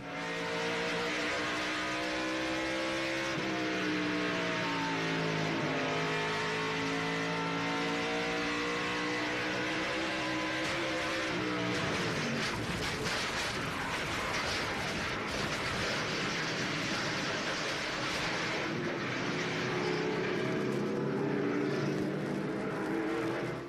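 Heard from onboard, a race truck at the 1996 Coca-Cola 200 drones loudly under hard load. Its engine note rises and falls through gear changes and lifts. The continuous mechanical howl runs close-up, with no talk.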